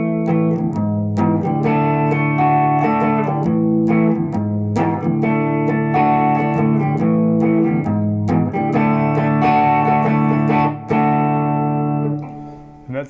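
Electric guitar strumming the quick chorus chords of a song, ending on A: loud, close, sustained chord strums that change steadily, then fade out at the end.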